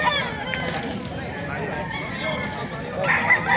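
A Talisay gamecock rooster crows near the end, with clucking fowl around it and someone talking throughout.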